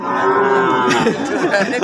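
A cow gives a long, loud moo close by, followed by a second lower bellow, with faint crowd murmur behind, at a busy Eid al-Adha cattle market.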